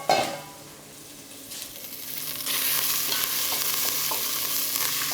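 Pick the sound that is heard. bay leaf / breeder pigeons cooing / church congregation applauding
bay leaf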